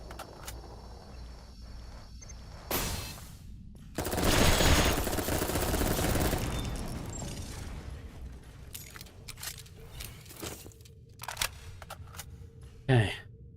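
Submachine gun fire in the video game Dolls Nest, heard as short bursts and then a sustained loud volley of rapid shots, followed by scattered single shots and faint clicks over a quieter game background.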